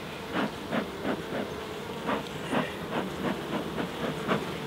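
Honey bees buzzing during a UK winter hive inspection, a continuous droning hum close by with soft rhythmic knocks or puffs of the hive being handled.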